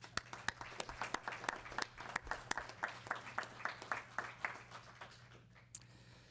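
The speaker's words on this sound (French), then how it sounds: "c'est rare qu'on se donne des mains d'applaudissements, mais je pense que ce soir, vous pouvez vous en donner" Scattered applause at a city council meeting: a modest group claps unevenly for several seconds, and the claps thin out and fade toward the end.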